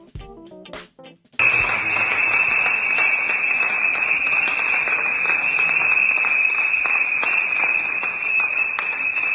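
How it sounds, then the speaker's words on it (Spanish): Continuous applause from ATE workers protesting in the halls of the Casa Rosada, with a steady, piercing whistle tone held above the dense crowd clatter after a brief quiet opening. "Hay aplausos y silbatos en los pasillos de la Casa Rosada de los trabajadores de ATE"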